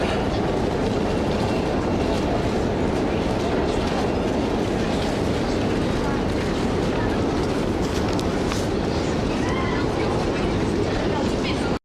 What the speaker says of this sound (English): we boarded the train from the Charles de Gaulle airport to Paris